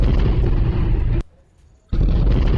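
A loud, sustained blast of roaring noise from a drone attack explosion in Moscow, captured on CCTV, cuts off abruptly into near silence, then the heavy rumble returns just as suddenly.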